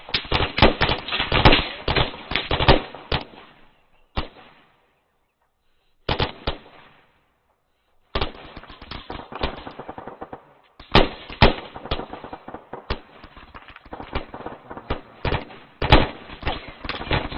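Gunfire rattles through a military training exercise in loud, rapid bursts of sharp shots, with two short gaps of silence before dense volleys resume and continue to the end.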